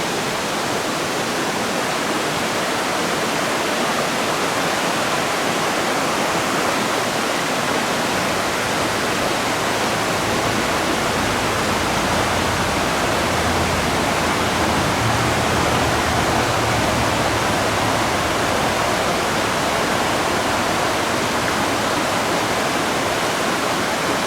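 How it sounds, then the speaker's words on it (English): A river rushing beneath a bridge in the Great Smoky Mountains: a loud, dense, unbroken roar of flowing water, steady throughout with no voices. "But you have this bridge and this beautiful river spot right here. Very relaxing sound."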